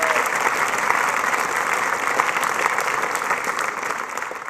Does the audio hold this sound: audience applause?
yes